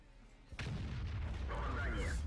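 A heavy artillery cannon fires in World of Tanks, a sudden loud boom followed by a rumbling, sustained blast tail under excited Russian-speaking voices.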